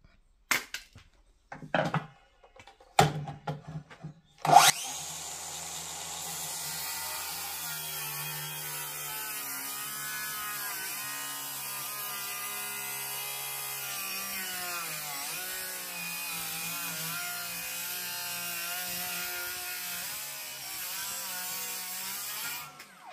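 A power saw crosscuts wood, comparing Bosch and Parkside blades: a few sharp knocks and taps first, then the motor spins up into a continuous loud whine with the pitch dipping as the blade bites through the board.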